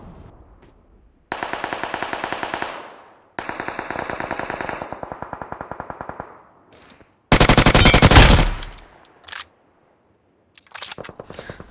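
Bursts of automatic gunfire from the mobile battle royale game BGMI, several rapid volleys of shots followed by a louder, dense blast and a few scattered shots, loud and close with no talking.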